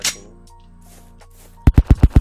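Five rapid, loud gunshots ring out in quick succession in the Roblox survival game Trident Survival, following a quieter stretch of low ambient tones.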